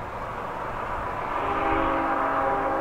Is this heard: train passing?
yes